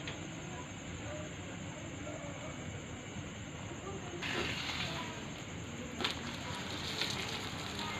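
Gobi paratha frying in cooking oil on a hot tawa gives a steady soft sizzle and hiss that swells louder partway through, with a few light clinks.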